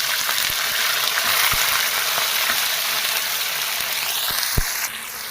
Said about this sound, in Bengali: চিকেন এগুলো ফ্রাই করবার লাগিন দিলে